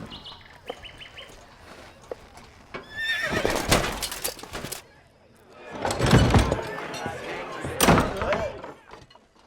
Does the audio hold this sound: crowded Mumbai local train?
no